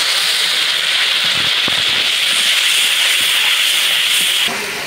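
Spice paste of ginger-garlic and salt hissing and sizzling loudly in a hot pan as a splash of water hits it, a steady close-up crackling spray that drops off at the very end.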